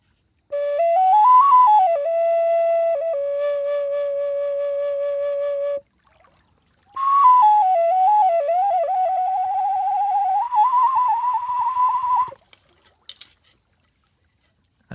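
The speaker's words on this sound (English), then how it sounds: "So that's what I love about the Native American flute." A breathy wooden Native American flute plays a simple melody in two phrases with a short pause between, held notes and gentle slides, solo and close.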